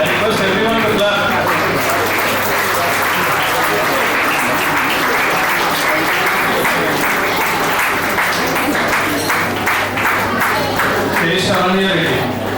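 Sustained, loud audience clapping at a Rotary Club prize distribution fills the hall from start to finish, with many hands blending into a dense, steady wash and a faint voice underneath.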